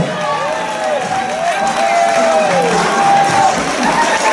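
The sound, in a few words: applause for Rachel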